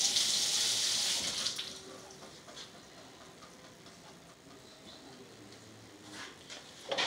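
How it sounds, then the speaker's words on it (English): Garlic is rinsed under a running kitchen tap, with a hissing gush of water at the start that thins to a faint trickle and soft handling sounds, heard close with no talking. "So let me rinse this off real quick."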